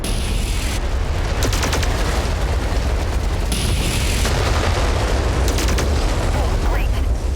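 Booming explosions and crackling blasts from MechWarrior 5 combat as an emergency generator is destroyed, a dense continuous roar of bursts and debris with sharper hits layered over a constant rumbling battle bed, close and loud.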